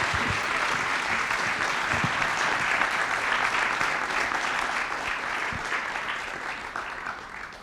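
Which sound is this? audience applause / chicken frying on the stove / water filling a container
audience applause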